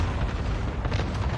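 A cluster explosion in a video game, a dense, loud rumbling burst of blasts that fills the whole short moment.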